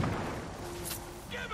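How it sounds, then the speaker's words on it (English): A grenade blast in Far Cry 5, a dull booming explosion with a rumbling tail, heard under a talking voice over the short moment. "Oh, that's a whole grenade."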